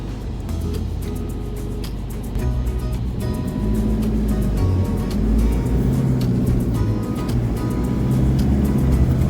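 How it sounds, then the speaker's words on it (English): Vehicle traffic passing along the Yidney Rocks bypass sand track on K'gari (Fraser Island), a steady close engine rumble that holds throughout and swells slightly toward the end. "Yeah, just a bit of traffic we're going to wait for."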